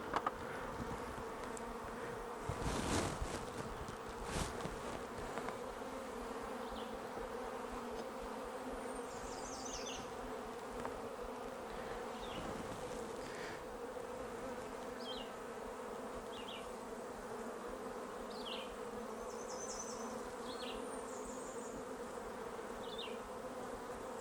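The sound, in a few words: honeybees buzzing around an opened beehive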